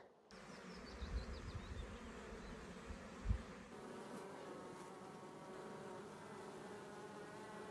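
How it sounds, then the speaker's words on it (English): A dense, steady drone of many honeybees buzzing close by at the hive, continuous throughout with a few soft bumps early on. "Aren't they cute, little bees?"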